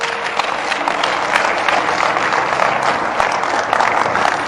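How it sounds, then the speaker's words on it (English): A church congregation claps hands in loud, sustained, crowded applause with crisp individual claps standing out across the whole stretch. "Clap your hands."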